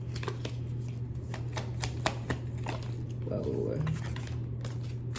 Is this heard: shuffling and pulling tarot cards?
yes